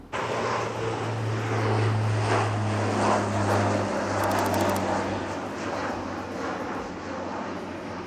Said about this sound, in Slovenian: S telim res majhnim frčoplanom na propelerje